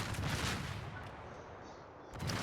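Heavy naval gunfire from a warship firing armor-piercing shells in World of Warships, as broad booming rumbles at the start and again at the end, with a low sustained roar between them.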